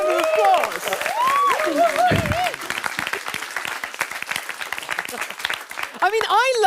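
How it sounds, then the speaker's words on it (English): Audience applause from a crowd, steady broadband clapping across the clip with voices talking over it throughout, including a rising, animated voice near the start and end. "I think that deserves a huge round of applause."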